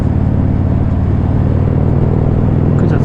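A 2018 Harley-Davidson Street Glide motorcycle cruising along, its engine giving a steady, loud, close low rumble with an even throbbing drone throughout, no voices.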